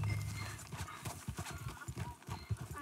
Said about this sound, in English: It's a donkey.